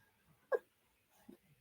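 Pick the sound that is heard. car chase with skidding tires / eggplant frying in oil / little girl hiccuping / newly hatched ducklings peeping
little girl hiccuping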